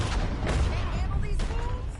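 A video game shootout in a Red Dead style western, with a dense, continuous volley of gunshots and booms up close, and voices speaking over the firing.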